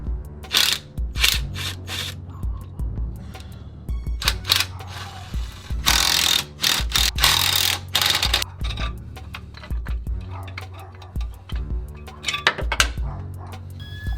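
A ratchet clicks in rapid bursts while removing the rear motor mount on a Mk 7 Ford Fiesta ST, with metallic clatter and pauses between runs of turning, close and fairly loud.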